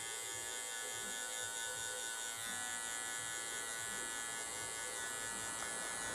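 An electric hair clipper with a half-closed guard cutting hair during a mohawk fade, a steady close buzzing drone that runs unbroken with no speech.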